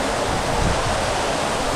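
A waterfall at 76 Falls in autumn, a steady loud roar of cascading water heard from up close with no other sounds.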